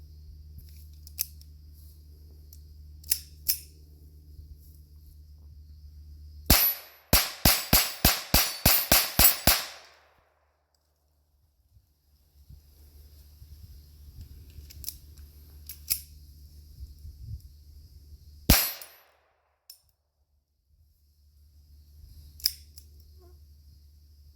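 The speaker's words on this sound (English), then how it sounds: "we're going to run some mini mags through the SR22" A Ruger SR22 pistol fires CCI Mini-Mag .22 LR rounds outdoors: one sharp shot, then a rapid string of about seven cracks, and later two more isolated shots, with quiet gaps and low background hum between them.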